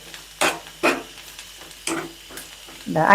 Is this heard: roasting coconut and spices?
yes